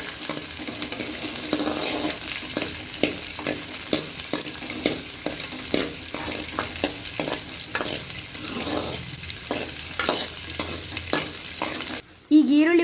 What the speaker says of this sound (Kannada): ಬೆಳ್ಳುಳ್ಳಿ ಹಾಕಿದೆ. ಈಗ ಇದನ್ನು ಉರಿತಾ ಇದ್ದೀನಿ.